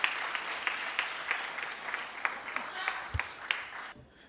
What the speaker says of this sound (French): Applaudissez-lui, franchement.